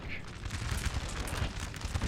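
Musket volleys crackle in a Napoleonic-era battle from the Napoleon Total War video game, dense overlapping gunfire bursts rolling continuously with booming low rumble, loud and busy throughout.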